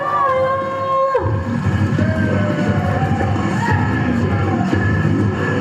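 Wrestling arena crowd at a UK wrestling show cheering and yelling loudly and continuously as a wrestler makes his entrance, with music tones running through the steady roar.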